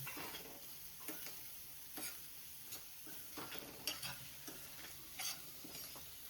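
Pasta with green chillies being stirred in a pan, a steady soft sizzle with repeated scraping clicks of a utensil against the pan, close and fairly quiet, no talk.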